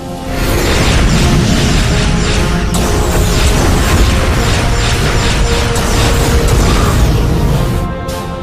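Starship weapons pound a starbase in a sustained, loud barrage of booming blasts and mechanical clatter that fills the whole stretch without letup.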